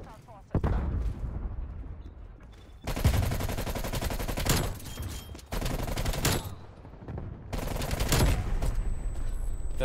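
Bursts of fully automatic fire from a QBZ-83 rifle in Call of Duty: Black Ops Cold War, with three long, loud, rapid rattling strings of shots separated by short pauses, preceded by a few single cracks.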